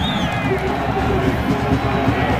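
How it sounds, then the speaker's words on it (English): Football stadium crowd at Colorado at Nebraska, a broad, loud roar of many voices rising as fans stand and cheer, continuous throughout with speech mixed into the din. "Crowd beginning to stand up and cheer."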